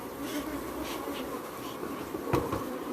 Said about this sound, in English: all my bees is Africanized bees